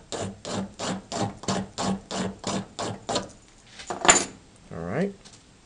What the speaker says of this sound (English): Scrape a bunch of magnesium filings.